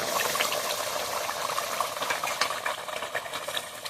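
Fried eggplant being stirred into a simmering fish curry in a pot, with a continuous bubbling sizzle and scattered scraping clicks of a spoon against the pan, close and fairly loud, no voices.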